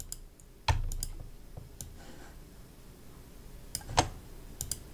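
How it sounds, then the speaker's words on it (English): Computer mouse clicks and keyboard key presses at a desk, a few sparse, close, sharp clicks with quiet gaps between them, faint and alone. "hit the control key,"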